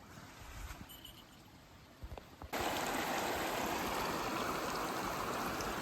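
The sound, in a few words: clear stream water flowing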